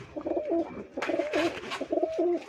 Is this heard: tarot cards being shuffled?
no